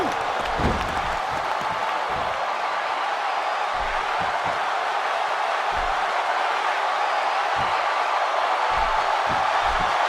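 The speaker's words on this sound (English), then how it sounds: "Another great crowd here in St. Louis." A large wrestling arena crowd in St. Louis sends up a dense, continuous roar of cheers and scattered clapping, loud and unbroken throughout with no clear gaps.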